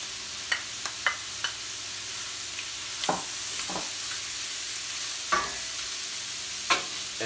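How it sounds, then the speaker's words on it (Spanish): Mushrooms, onion and bacon frying in a pan, a steady soft sizzle broken by sharp scrapes and clacks of a utensil stirring at irregular intervals, close and without talk. "vamos a proceder con echarle sus hongos, cebolla y tocino"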